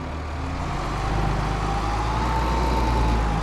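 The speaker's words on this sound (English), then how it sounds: "wait till you guys hear the sounds of this tractor" A Steyr 9270 tractor engine in Farming Simulator 22 drones steadily and loudly at close range, a continuous deep rumble with a slight rise in intensity partway through.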